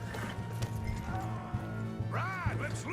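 A horse in Red Dead Redemption 2 clops its hooves and whinnies, a moderate rhythmic gait under a steady game backdrop, ending in a brief rising neigh.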